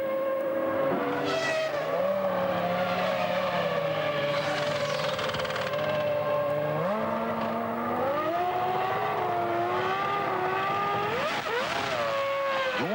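A Ferrari Formula 1 car leaves the pits and rejoins the track at the 1996 Canadian Grand Prix in Montréal, its high engine note loud and continuous, rising in pitch through the gears with other race cars around it.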